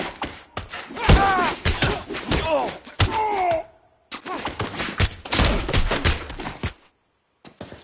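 Gunfire during a police shootout in the video game L.A. Noire: several sharp, loud shots and thuds mixed with shouting game voices, separated by brief pauses and a short silence near the end.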